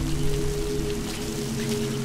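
Rain falls steadily in Metal Gear Solid V: The Phantom Pain, a continuous hiss of drops layered over low humming game ambience.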